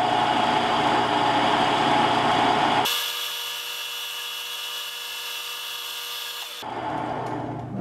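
Steady machining whir of a K&T milling machine drilling a hole through a crank at about 100 RPM, a continuous hum that shifts to a quieter, thinner tone midway, then returns, with no talking.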